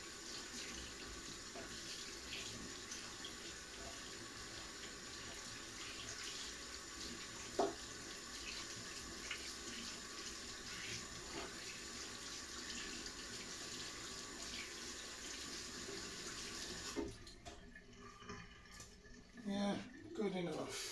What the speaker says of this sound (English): Guess I'll have to wash my hands now, though.